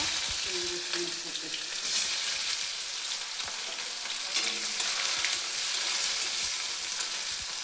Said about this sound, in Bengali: পেঁয়াজ রসুনটা একটু ভাজা হয়ে গেলে